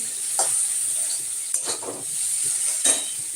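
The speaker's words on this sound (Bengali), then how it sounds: "দেখো শাকটা একটু ভাজা ভাজা হয়ে গেল" Steady sizzling of gima greens frying in a pan, with a few brief scraping stirs; no voices.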